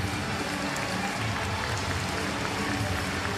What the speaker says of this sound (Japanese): あ、そして歴史的な拍手です。